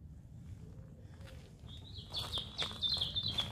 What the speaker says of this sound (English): Lovely sound of birds.